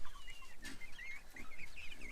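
Backyard chickens cluck softly and intermittently while pecking at kitchen scraps of lettuce, leek offcuts, chips, pasta, mushrooms and lemons, with short chirpy calls over a quiet, steady background.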